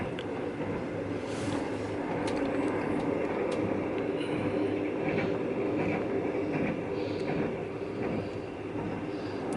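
A Thai railway first-class sleeper train runs steadily, with a continuous low rumble and rolling wheel noise, occasional faint clicks and rattles inside the carriage, heard from on board.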